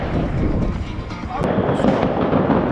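New Year's Eve fireworks at the 2023 to 2024 celebration crackle and pop densely and continuously at close range, with a faint voice under the bursts.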